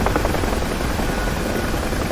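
Steady, loud whirring rotor and turbine roar of a UH-1H Huey helicopter in the DCS flight simulator, flying free over Dubai, with a continuous dense drone and no gaps.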